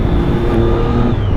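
A track-day motorcycle engine roars loud and close, accelerating hard with a sustained droning note and a quick clutchless upshift, no voices over it.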